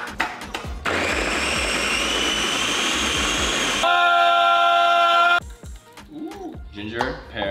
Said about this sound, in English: So I'm just gonna prep these to put it into the food processor.